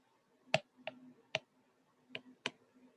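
Sharp, sparse taps and clicks from a pen or marker as notes are written during an anatomy lecture, about five distinct ticks in quiet surroundings, with no talking.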